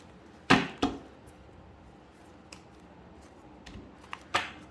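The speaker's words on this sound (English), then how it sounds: "I'm going to give it one more shuffle." Tarot cards being shuffled by hand during a card reading: a few sharp, separate riffling snaps and flicks spread over several quiet seconds, close and dry, with no voice over them.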